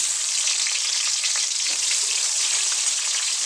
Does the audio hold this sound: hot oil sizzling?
yes